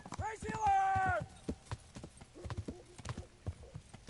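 In the medieval game Kingdom Come: Deliverance, horse hooves clip-clop at an uneven pace while a horse whinnies early on, with an echo effect and a voice talking over part of it.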